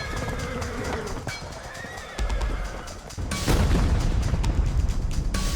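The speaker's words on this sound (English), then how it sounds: "Panicked horses turn back, trampling their own comrades." Panicked horses neigh and whinny amid a chaotic battle scene with booming blasts, heavy rumbling and scattered impacts, loud and close throughout.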